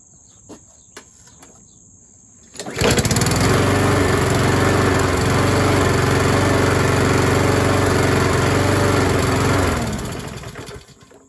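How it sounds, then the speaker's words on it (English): A rental lawn mower engine, freshly repaired with a used NGK spark plug and new air filter, starts after a couple of faint taps, roars loudly and steadily for about seven seconds, then cuts off and winds down. "these are what we call rental mowers"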